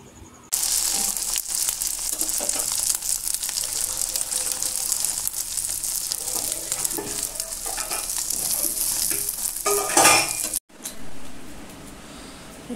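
Steady loud sizzling and frying of egg toast in a home kitchen pan, with occasional stirring scrapes, cutting off abruptly near the end into quieter room noise.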